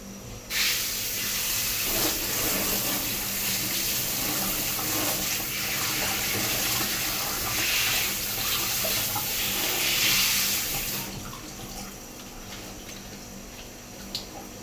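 Running tap water splashes steadily into a sink for about ten seconds as vegetables are rinsed under it, then fades to quieter background noise.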